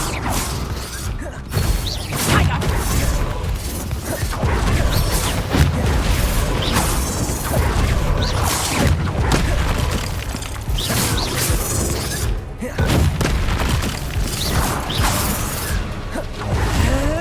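Confringo blast spells erupt in dense Hogwarts Legacy combat, with booming impacts, whooshing swipes and crashing, mechanical clatter that stays loud and crowded throughout.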